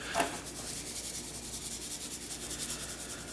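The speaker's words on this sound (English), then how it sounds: "I don't really rub it in, I kind of just pat it on." Hands patting dry rub onto BBQ spare ribs, a soft rhythmic series of close, muffled dabs and light rubbing, steady and quiet with no talk.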